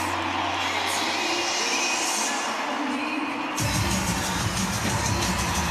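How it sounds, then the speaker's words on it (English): Fireworks burst over a big rugby stadium crowd at Allianz Stadium as England and Ireland women's teams walk out, a sudden loud wash of bangs and crackle rising over steady crowd noise partway through. "The fireworks go off."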